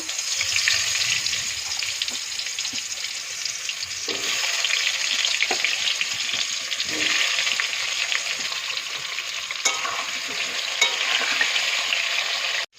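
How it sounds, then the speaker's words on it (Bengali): Pieces of pointed gourd (potol), rubbed with salt and turmeric, fry in hot oil with a steady, close crackling sizzle broken by occasional stirring knocks, no voices. "তেলটা গরম হয়ে গেছে। এবার পটলটা হালকা করে ভেজে নেব।"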